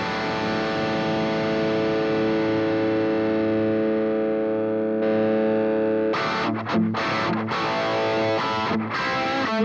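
Electric guitar through a Boss GX-100 modeller with its booster effect engaged: a sustained, heavily distorted chord rings loud and steady, then gives way to brighter, aggressive strummed chords with short choppy breaks.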